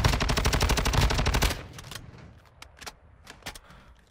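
Warzone 2.0 gunfire: a loud, rapid automatic burst lasting about a second and a half, then a few scattered, sharper single shots and clatters fading lower, with no talk.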